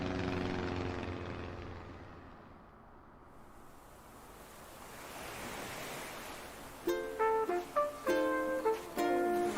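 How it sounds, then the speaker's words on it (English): Charter flight plane arriving at a deserted island in Animal Crossing, a steady airy engine roar that swells and fades like wind and surf, before bright melodic game tones chime in near the end. "The Nook Inc. Getaway Package charter flight will soon be arriving at the deserted island."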